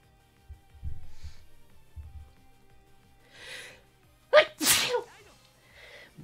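A single loud sneeze with a sharp intake and burst, preceded by soft breathing and small noises, then quiet.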